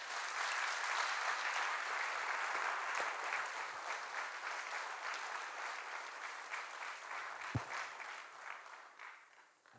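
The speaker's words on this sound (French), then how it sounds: "Merci de l'applaudir également." An audience applauds during a 2023 New Year speech in Saint-Leu d'Esserent. The clapping is steady and sustained, then thins and fades toward the end.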